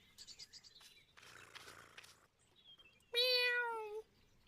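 A single clear, drawn-out cat meow stands out near the end, after softer chirpy sounds and quiet background noise.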